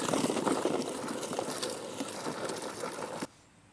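A Sun Joe manual leaf sweeper's brushes sweep up sweet gum balls, a dense rattling, clattering whir rolling steadily for about three seconds before cutting off abruptly to near silence.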